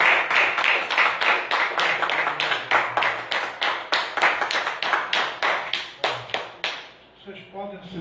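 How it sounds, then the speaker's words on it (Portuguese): Rhythmic clapping from a church congregation, steady and fairly close for about seven seconds, with broadband claps in a regular beat, then fading out as a voice begins near the end. "Deem uma salva de palmas."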